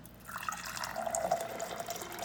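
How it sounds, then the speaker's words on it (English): Water pouring from a Primo B150 water dispenser into a container, a soft continuous trickling stream with gentle bubbling, close and fairly quiet. "get a quick idea of what the water looks like when it's dispensing"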